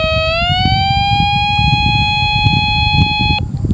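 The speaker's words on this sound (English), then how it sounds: "So you're gonna hear one beep." A Renz P4000 metal detector gives one long startup beep on power-up, a loud, steady electronic tone that slides slightly upward at the onset, holds for about three seconds and stops abruptly over a low background rumble.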